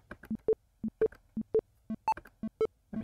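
Short, evenly spaced sine-wave metronome beeps from a browser oscillator, pure and clean, mostly alternating between a low tone and a higher accent, with an occasional brighter, higher beep, steady and regular without any voices.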